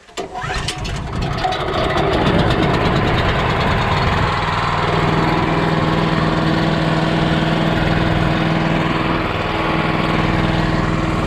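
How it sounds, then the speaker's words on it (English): A gas-powered pressure washer engine cranks to life and then runs loud and steady near the microphone while a mobile home is being washed. "when you crank up your pressure washer, it pulls low pressure"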